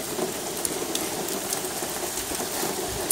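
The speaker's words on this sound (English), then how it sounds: "There's rain on the street." Hurricane Isaias rain pours steadily onto a street as a dense, even hiss, with gusting wind mixed in and no voices.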